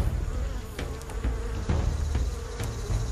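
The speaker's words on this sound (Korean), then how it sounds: "이 안에 지금 구멍에서 나오는 것들이 일벌들인데 흙을 자꾸 물어다가 바깥으로 이동하는 그 장수말벌들이에요." Giant hornets swarm at their underground nest as workers carry soil out of the hole. A dense, steady insect buzz runs throughout, with scattered closer fly-bys.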